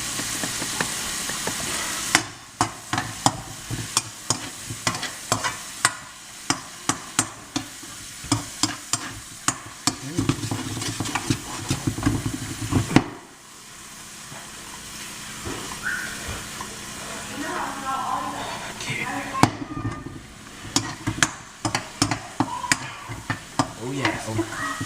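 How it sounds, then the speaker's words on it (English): Chopped steak and vegetables sautéing in a hot pan: steady sizzle and hiss with repeated rhythmic clacks of a utensil stirring and scraping, close and loud, pausing briefly before the frying resumes. "You just want to saute those up just like that."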